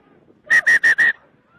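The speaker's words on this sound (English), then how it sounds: "And we have a whistle." A referee's whistle at an Army versus Harvard women's rugby game sounds in four sharp, loud, evenly spaced blasts against a quiet field.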